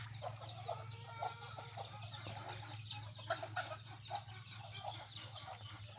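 Chickens cluck and squawk steadily at feeding time on a farm, a busy flock close by with scattered sharper calls over a constant low hum, no talking.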